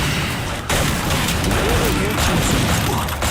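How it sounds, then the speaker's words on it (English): Rapid gunfire and booming explosions from a competitive battle royale video game match, dense and loud throughout with a brief dip near the start, as players shoot at a team dropping from the sky. "Trying to shoot them down from the sky, but Killer misses all his shots."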